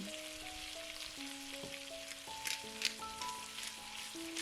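Beef and bacon fry in a pan for a red-wine beef stew, giving a steady, close hiss and crackle throughout, with faint stirring, lighter sizzle spikes and soft background music.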